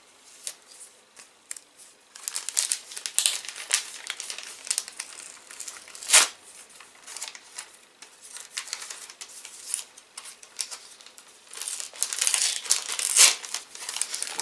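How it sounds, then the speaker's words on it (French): Kraft paper wrapping being unwrapped by hand, crisp crinkling and rustling in irregular bursts with a few sharper tearing crackles, close and fairly loud against a quiet background. "J'adore le papier craft pour emballer comme ça."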